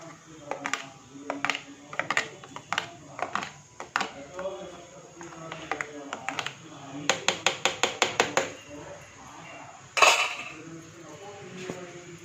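Buttermilk is stirred into a pot of Tamil-style majjiga pulusu, a spoon clinking repeatedly against the metal pot in irregular strokes and then a quick run of rhythmic taps, close by with a voice talking in between.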